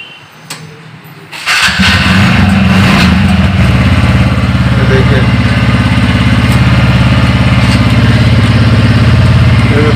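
A used 2018-model TVS Wego motorcycle engine cranks and fires after a brief quiet moment, then settles into a steady, close, loud idle that runs without letup.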